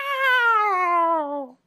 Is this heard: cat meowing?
yes